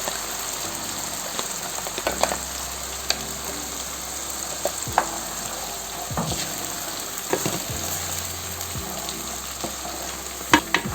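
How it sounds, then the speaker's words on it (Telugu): Onion paste frying in a pan for a Madras-style king fish curry, a steady broadband sizzle with scattered scraping stirs and clicks throughout, close and fairly loud, with no voices. "ఈ పేస్ట్ని కొద్దిగా వేగనిద్దామండి. ఒక 5 నిమిషాలు ఫ్రై చేసుకుందాము."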